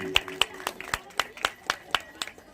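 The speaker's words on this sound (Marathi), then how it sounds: "जोरदार टाळ्या." Applause welcoming a speaker at a community gathering, a handful of sharp, evenly spaced claps, fairly close and moderately loud, with a voice faintly audible underneath.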